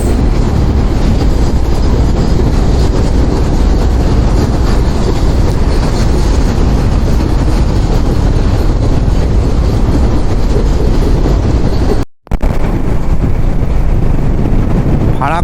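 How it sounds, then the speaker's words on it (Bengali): A train rumbles past near the Farakka barrage between Murshidabad and Malda, a loud continuous roar heavily masked by wind buffeting from a moving motorbike. "ট্রেনও আসছে।"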